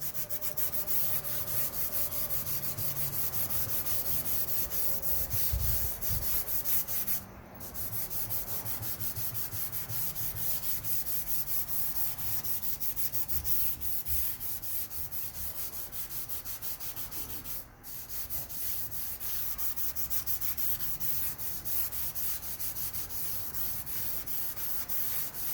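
Surface rust is scrubbed aggressively off a lathe in a steady, continuous abrasive rubbing, close and fairly quiet, with two brief pauses where the strokes stop for a moment.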